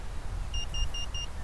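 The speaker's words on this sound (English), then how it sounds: "there's my telemetry beeped to let me know that" An RC Electro Stik plane's telemetry alarm sounds four short evenly spaced electronic beeps over a low wind and motor rumble, near and fairly clear.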